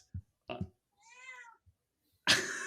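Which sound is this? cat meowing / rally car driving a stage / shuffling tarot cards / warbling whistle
cat meowing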